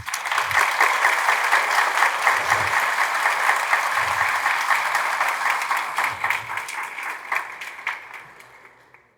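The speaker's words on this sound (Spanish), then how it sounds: "quiero que la homenajemos con un aplauso" Audience applause at a national law congress, a steady dense ovation from a large crowd that runs for several seconds before thinning out and fading.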